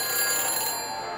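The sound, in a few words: phone call ringing in Back to the Future video game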